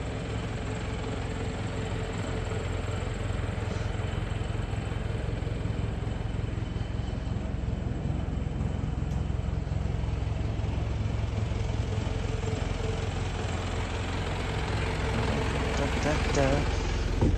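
A 2010 Mitsubishi FUSO FE145 diesel truck engine, fitted as a power washing rig, idles with a steady, low rumble that stays even throughout.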